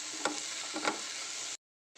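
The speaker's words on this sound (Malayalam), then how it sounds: "നമുക്ക് ഇതിലേക്ക് കുറച്ച് മഞ്ഞൾപ്പൊടി ഇട്ട് കൊടുക്കാം. നന്നായി ഒന്ന് ഇളക്കാം." Eggplant curry stirred in a pan after turmeric powder goes in, a steady frying hiss with two brief scraping stirs of the spoon, ending abruptly in silence.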